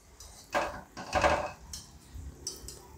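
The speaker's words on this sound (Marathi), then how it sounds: "चमच्याच्या सहाय्याने हलक्या हाताने याला आपण दुसऱ्या साईडनी टर्न करून घेऊ" A spoon turning kala jamun frying in a pan over a very low flame: a few soft knocks and scrapes against the pan, close and fairly quiet, with no talking.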